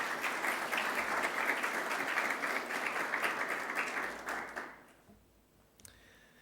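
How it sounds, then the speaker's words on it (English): A school assembly crowd gives a sustained round of applause, dense and even clapping that fades out after several seconds into quiet room noise. "Let's give them a round of applause."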